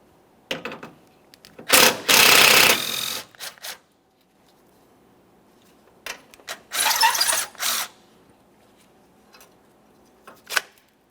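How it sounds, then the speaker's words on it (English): Two bursts of fast, dense ratcheting come from a 10mm ratchet working the battery hold-down bolt and nut on a 2014-2019 Toyota Corolla. Scattered faint clicks and handling noises sit between the bursts, in a quiet setting. "we're going to remove the battery hold down. That has a 10mm bolt and a 10mm nut."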